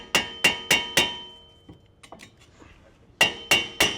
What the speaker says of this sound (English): Grab a sledgehammer and just tap around this so you can free up the rotor.